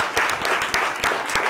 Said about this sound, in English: Would you all give him a round of applause?